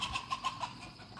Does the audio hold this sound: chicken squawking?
yes